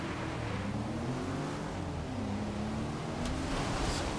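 A Porsche SUV with all-wheel drive driving a wet Top Gear track in Forza 6, a steady engine drone with a slowly shifting pitch under a constant wash of spray and road noise.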